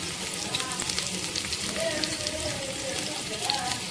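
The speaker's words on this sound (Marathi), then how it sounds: "कढीपत्ता ओला होता त्याच्यामुळे ते उडत बघा" Wet fresh green curry leaves spluttering in hot oil for a tempering, a steady close crackling sizzle with scattered pops throughout.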